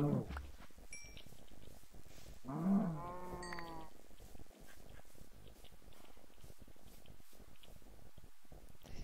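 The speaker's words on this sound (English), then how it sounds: "I think we got tree cows going on right now." A single cow moos once in a Minecraft game, a short clear low call, with faint game ambience and small sounds around it.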